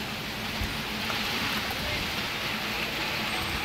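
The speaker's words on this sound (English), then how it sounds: "It's raining." Steady rain falls outdoors in a continuous, even hiss with a faint low rumble beneath, close and moderately loud, with no voices over it.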